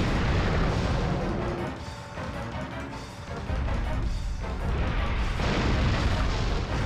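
Dense, continuous rumbling booms of cannon fire in the video game Dino Crisis 2 roll on without pause in rapid succession, loud and close throughout.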